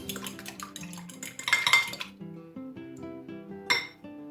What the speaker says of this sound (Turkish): Bununla beraber 3 tane yumurta kırıyorum. Sonra bu arkadaşı güzel bir çırpıyorum.